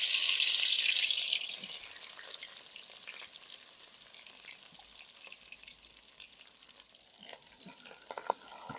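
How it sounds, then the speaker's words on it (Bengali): Ground spices hit hot oil with a loud burst of sizzling that quickly settles into a softer, steady fry, with a few faint stirring clicks near the end. "এবার তেলে আমি মশলাপাতি কষে নেবো"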